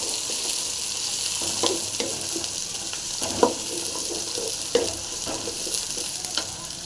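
Onions and garlic sizzle steadily in oil in a pan while being stirred, with occasional scraping clicks and soft knocks over the continuous frying hiss.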